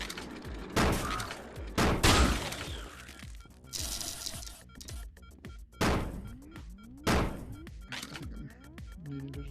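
Gunfire in the Rec Room Jumbotron Quest game: sharp, loud shots come in irregular bursts and single cracks, with clanks and thuds between them.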